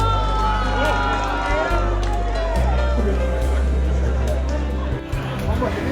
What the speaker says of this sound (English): The crowd cheered the lady as she jumped after hesitation of about